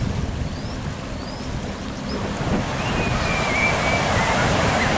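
Ocean surf rolls continuously at Mooloolaba main beach, a broad steady wash of waves with some wind noise, fairly loud and constant with no talk.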